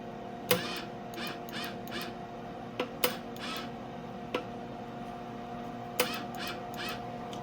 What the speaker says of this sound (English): Motor spinning, solenoid works.